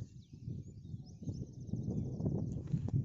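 Sheep passing along a road near the high court area of Prayagraj, with soft scuffing hooves and low rustling movement under steady outdoor traffic rumble, close and continuous for a few seconds.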